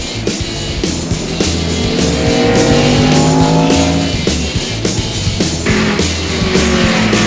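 Stock cars roaring around the Martinsville short track during the 2002 Virginia 500, loud engine whine rising and falling as cars pass, with bursts of tire noise and a dense crowd-and-track din, no audible commentary.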